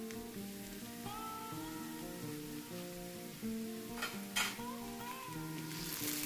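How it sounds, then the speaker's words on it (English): Spices including turmeric are stirred into sizzling oil in a pan for egg puffs, a steady frying hiss with soft scraping from the spoon and a few sharp clinks against the pan, while tonal background music plays underneath. "Give it all a nice mix."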